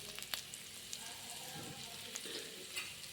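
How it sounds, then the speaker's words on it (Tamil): Masala egg frying in a pan and being stirred, with soft sizzling and faint scraping clicks of the spoon, quiet and close. "நல்லா ஒரு வாட்டி நல்லா கிண்டிக்கலாம்"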